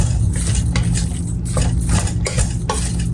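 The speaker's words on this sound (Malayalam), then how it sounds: "ഒന്ന് ഇട്ടിട്ട് നമുക്കൊന്ന് ഇളക്കണം" A spoon stirs tomatoes, coriander and mint leaves in a pot for chicken biryani, with repeated scraping and clinking against the metal and a soft sizzle beneath, close and steady.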